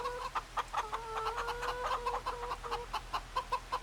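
Chickens cluck in Farming Simulator 25, several birds giving quick rhythmic clucks and a few drawn-out tonal calls, moderately close over a constant low hum.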